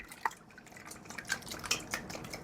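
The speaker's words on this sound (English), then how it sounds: "So I'm just mixing the wet ingredients for my cake mix." A silicone-coated whisk stirs wet ingredients for a 1966 Betty Crocker pineapple upside-down cake mix in a bowl, giving soft, irregular clicks and light liquid swishes at close range, fairly quiet with no talking.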